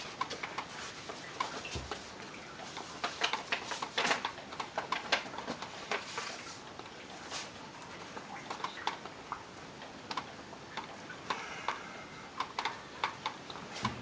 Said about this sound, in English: Basically come in here with scissors and cut this.